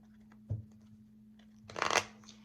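Tarot cards being shuffled in two quick bursts, a short soft riffle followed by a louder crisp flutter, close and quiet over a faint steady hum.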